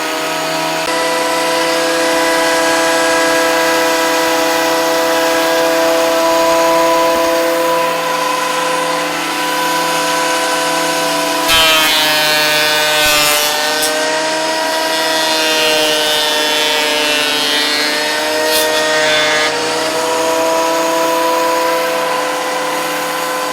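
Triton TPT125 thicknesser planing a rough sawn board, a steady loud motorised whine with strong harmonic tone running throughout, briefly rising in pitch and roughness as the wood feeds through the cutter block.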